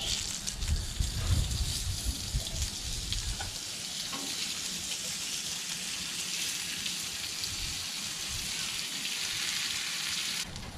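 An egg frying on a hot griddle, making a constant crackling sizzle with a few louder pops and some low clattering early on, continuing steadily close up with no talking.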